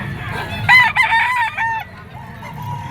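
Stag roosters crowing at a busy pet market, one clear crow rising over steady low crowd and market noise before trailing off.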